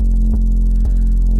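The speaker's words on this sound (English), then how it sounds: "I've decided to give it a huge bump, 20 dB around 200 Hertz," Music track in A given an extreme 20 dB EQ boost around 200 Hz, a loud, droning low-mid hum with two brief thumps, no voices.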